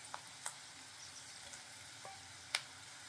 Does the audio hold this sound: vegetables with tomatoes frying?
yes